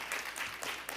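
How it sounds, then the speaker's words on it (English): Applause fills a city commission meeting room as the audience claps for the coach and his staff, a brief, dense patter of many hands at moderate volume. "Give him a big round of applause."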